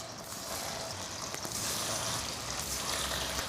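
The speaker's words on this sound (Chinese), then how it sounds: "把豆腐煎一下" Tofu frying in oil in a pan makes a soft, continuous crackling sizzle, fairly faint and even, with a few slightly sharper pops.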